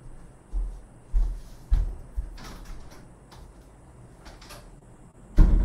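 A door opens for a visitor at home, with several dull knocks and thumps of handling, a stretch of quieter rustle, then a final heavier bump, heard fairly close without speech.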